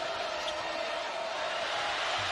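Basketball arena crowd at a men's championship game, Gonzaga vs. Saint Mary's, buzzing in anticipation: a steady, dense murmur of many distant voices, held at an even level throughout.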